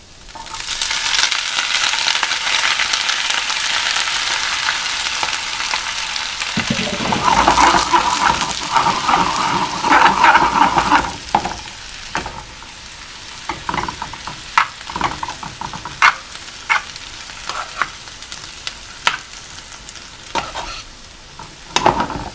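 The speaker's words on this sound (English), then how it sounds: "So now into the butter, I'm going to add my spinach." Spinach is added to melted butter and fries in a pan for Swiss rösti, a loud, close sizzle that later thins out, with repeated scraping and stirring clicks from a utensil.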